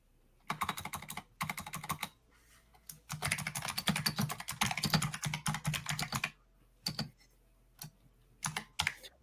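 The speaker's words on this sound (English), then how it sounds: "I absolutely love your keyboard, Steve. It makes it sound like I'm under fire from an AK." Loud, rapid typing on a computer keyboard comes close up in fast clattering bursts separated by short pauses, with no talk over it.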